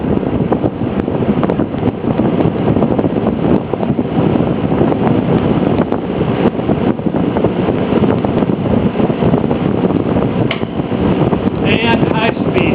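A vintage Frigid P-20 20-inch box fan runs at medium speed, giving a steady, close, airy whoosh of constant loudness with no talking.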